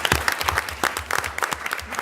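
Audience clapping at a school board meeting to recognize students, a steady burst of applause with sharp individual claps standing out, close and moderately loud with no talking.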